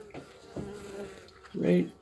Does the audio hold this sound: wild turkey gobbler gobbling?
no